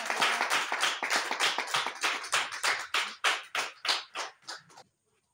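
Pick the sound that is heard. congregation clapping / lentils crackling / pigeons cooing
congregation clapping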